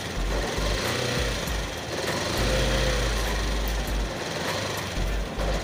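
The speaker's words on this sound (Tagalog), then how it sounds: "i-start na po natin yung engine natin" A motorcycle engine idles steadily after an oil change with Supremium Moto x3m oil, a close, loud, continuous low rumble with a rapid mechanical clatter and periodic pulses running throughout.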